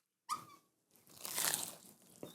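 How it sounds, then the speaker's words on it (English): A single loud, crisp crunch of a bite into a cheese and sausage snack, followed by a longer burst of crackly chewing with a squeak at the end, close and clear without talk. "I heard the crunch."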